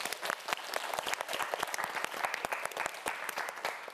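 Studio audience at a televised student quiz show claps in a lively, uneven burst, individual sharp claps standing out in a close, continuous patter.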